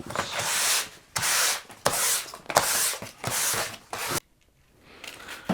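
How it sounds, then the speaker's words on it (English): Sandpaper rubbing back and forth on a wooden picture frame in about six loud, raspy strokes, close up, then a short near-silent pause. "did the little sanding thing, did it around the frame"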